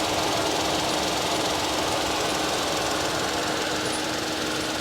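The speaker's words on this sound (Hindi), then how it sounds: "ये 1 लीटर का टर्बोचार्ज यूनिट है, 3 सिलेंडर यूनिट है, एसी चालू है। आवाज़ कितना कर रहा है एक बार सुनो" Kia Syros 1.0-litre turbocharged three-cylinder engine running with the air conditioning on, a loud, steady, close-up mechanical drone with a rough knocking texture and constant broadband whir, no voices.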